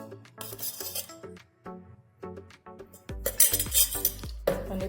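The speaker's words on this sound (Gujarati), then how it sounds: "ફરી તેને મિક્સ કરી લઈશું" A spoon clinks and scrapes around a bowl while yogurt is mixed with sugar, giving irregular metallic taps and knocks, sparse at first and then busier and louder near the end.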